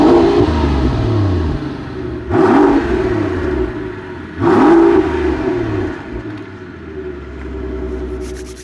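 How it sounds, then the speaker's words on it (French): Mercedes-Maybach S680 V12 engine revving, two sharp throttle blips rising and falling over a smooth idle, loud and close with no talk. "on va l'écouter ce V12."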